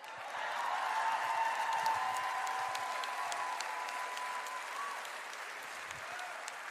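Crowd at a Reawaken America rally in San Antonio, Texas claps in dense, sustained applause that starts quickly, holds steady and loud, then tapers slightly, with a faint tone lingering underneath.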